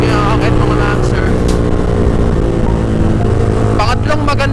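A motorcycle engine fitted with an open muffler, the Villain Shorty exhaust, rumbles steadily and loudly up close while someone talks over it.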